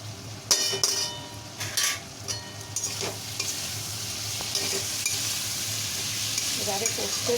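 Potatoes and onions with ginger and spices sautéing in a pan, a steady sizzle with sharp scraping stirs and spoon clinks near the start, then a continuous hiss.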